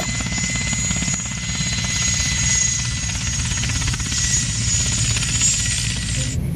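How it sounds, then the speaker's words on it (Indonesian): A red and white Airbus helicopter taking off, its rotor a loud continuous throbbing chop with a high turbine whine, steady and close for the whole stretch with no talk. "yang ini Airbus helikopter dengan warna merah dan putih"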